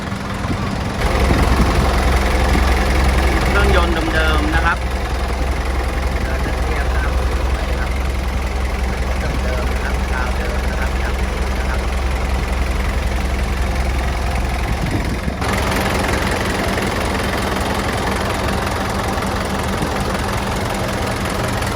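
A 2016 Hino FC9J 175 truck engine idles steadily with a low, knocking rumble, close and loud, continuing throughout with a brief shift partway through.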